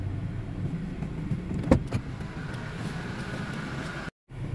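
A car engine held at about 1,000 RPM to run the air-conditioning compressor, a steady low hum from inside the vehicle with a faint whine and a brief clunk partway through.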